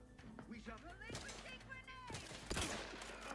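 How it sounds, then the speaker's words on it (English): Gunfire and grenade blasts in the shooter game The Outer Worlds 2, with sharp bursts and a louder blast near the end, all under ongoing game chatter and talk. "Stop throwing grenades"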